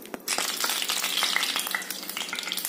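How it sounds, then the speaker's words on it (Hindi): Ghee melts and sizzles in a hot pan while potato halwa is cooked, a dense, continuous crackle close to the mic with occasional scraping stirs and no talk. "हमारा ये यहाँ पे घी डाल दिया है, घी मेल्ट होने देंगे अच्छे से।"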